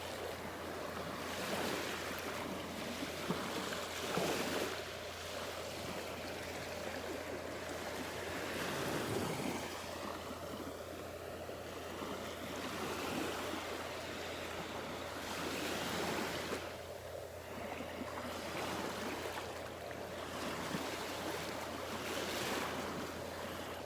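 Ocean waves roll onto Vanderbilt Beach in Naples, Florida, a steady wash of surf with repeated swells breaking and receding under constant wind noise, no voices present.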